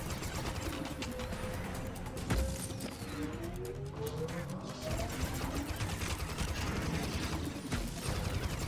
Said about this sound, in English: I'm just gonna switch back and forth between the Gatling and my homing missiles